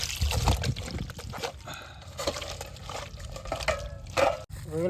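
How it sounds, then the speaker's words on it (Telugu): Raw prawns being washed by hand in water for a prawn fry, with sloshing and trickling water and wet handling sounds running continuously and fairly close. "సో క్లీన్ చేసుకుందాం నీట్గా. బాగా కడుక్కొని ఒకసారి శుభ్రంగా కడుక్కున్న తర్వాత"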